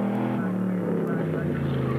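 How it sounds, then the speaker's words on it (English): A GM Motorsport race car engine at the 1990 Montreal round drones steadily from onboard, its pitch sliding gradually lower over a couple of seconds, loud and constant. "we're inside David Empringham's car now"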